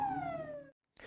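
A wailing siren tone slides downward and cuts off at a firefighter initiation ceremony, followed by a brief gap and then a burst of noisy outdoor sound.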